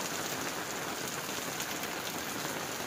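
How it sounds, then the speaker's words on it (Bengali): Heavy rain pouring down steadily, a dense, even hiss of drops hitting surfaces that stays loud and unbroken, with no voices. "এখন বৃষ্টি কমছে না"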